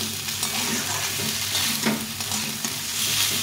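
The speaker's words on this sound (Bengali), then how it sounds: "মশলাটা একটু ভাজা ভাজা হয়ে গেছে," Spice masala sizzles and crackles in a pan while it is stirred, a close, continuous frying hiss with soft scraping bursts and no speech.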